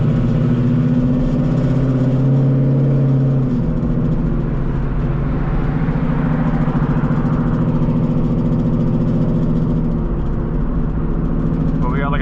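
A Whipple-supercharged S650 Ford Mustang GT with a 10-speed idles loud and close, a deep steady engine rumble throughout with a slight drop in tone early on, while a person talks over it.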